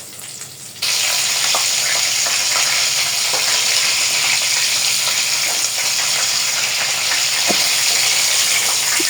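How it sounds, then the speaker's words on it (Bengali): Chicken pieces frying in hot oil make a loud, dense, continuous sizzle that starts suddenly after a quieter moment, with occasional soft clinks of a utensil against the pan. "এগুলো ভাজা হয়ে গেছে, উঠে নিলাম। এগুলো আরেকটু ভাজা হবে।"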